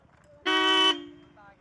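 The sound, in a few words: car horn honking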